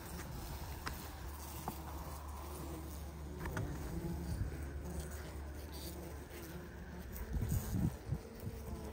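Honey bees swarm thick inside an opened hive, making a dense, steady buzzing hum close by, with scattered handling knocks and rustles near the end.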